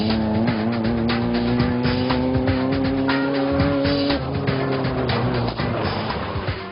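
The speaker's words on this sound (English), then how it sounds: "over 200 cars with drivers from nearly every state and more than 10 countries compete annually in this rugged off-road race" Baja off-road race cars, including Volkswagen Baja bugs, roar past in a rugged off-road race, with loud sustained engine drone, shifting pitch and overlapping motors from several cars.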